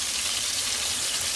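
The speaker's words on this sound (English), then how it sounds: "So we have the tacos frying," Steady crackling sizzle of potato and cheese tacos frying in hot oil, a continuous bright hiss with no talking.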